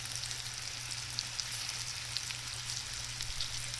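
Onions and mushrooms sizzle steadily in a pan for an onion and mushroom gravy, a close, even crackle of frying with soft scrapes from stirring and no voices.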